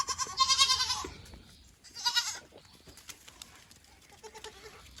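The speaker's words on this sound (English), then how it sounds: "There is 2 or 3 sheep here with the goats." Goats bleat loudly and repeatedly on a farm with a few sheep mixed in, two strong nearby calls followed by fainter bleats from the flock.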